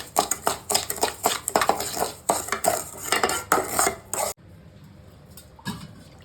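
Sugar poured into a metal pan while making rava kesari: quick clinking, scraping and rustling for about four seconds, then a near-quiet stretch with one faint clink at the end.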